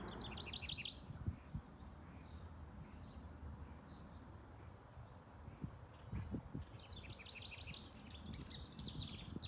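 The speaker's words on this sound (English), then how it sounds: "the singing of the birds in the natural habitat" Birds singing and chirping outside an abandoned shopping mall, with bright repeated trilling phrases at the start and end and scattered calls between, heard over a steady low outdoor rumble.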